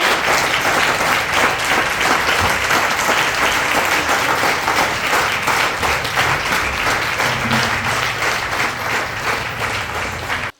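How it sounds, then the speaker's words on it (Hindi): Loud, sustained applause from a large church congregation fills the clip without pause, then cuts off sharply at the end. "पास्टर सैम को हम जोरदार तालियों में हम वेलकम कहते हैं।"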